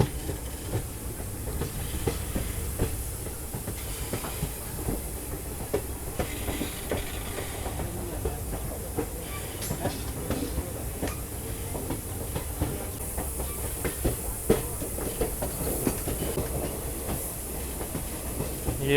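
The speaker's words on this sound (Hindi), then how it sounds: "ये देखो कितना शार्प कर्व एकदम ले रही है ट्रेन यहाँ पर" Tinsukia Bangalore Express train taking a sharp curve in the Barak Valley in monsoon, a steady rumble from inside the coach with clicks of wheels on the rails and a soft hiss, no voices.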